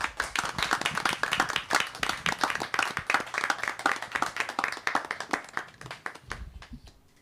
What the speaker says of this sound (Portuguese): vamos aqui, mais uma vez, aplaudir e agradecer ao Gerson Flávio